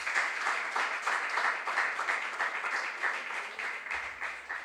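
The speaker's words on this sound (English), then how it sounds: "Let's clap for them." An audience at a junior science and maths quiz applauds steadily, dense rapid clapping from many hands at moderate volume, continuing without pause for several seconds.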